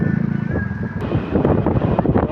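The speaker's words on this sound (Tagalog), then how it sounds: "ang lakas ng hangin talaga" Strong wind buffets the microphone at Manila Bay, a constant rough low rumble that swells and gusts close up throughout, with no talk.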